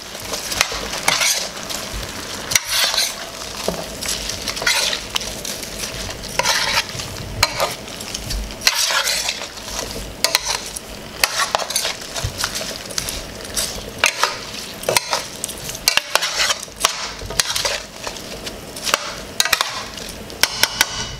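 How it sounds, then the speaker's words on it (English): A spoon stirs rice and peas through a sizzling pot of Trinidad pigtail pelau, giving continuous close scraping and clattering strokes over a constant hiss of frying. "Give it a stir."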